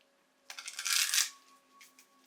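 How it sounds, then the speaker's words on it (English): A deck of oracle cards gets one quick shuffle, a soft papery riffle lasting under a second, close and fairly quiet, with no talking. "So give this deck one more shuffle."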